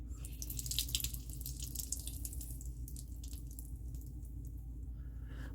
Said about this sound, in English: as I squeeze the sponge and you hear the water run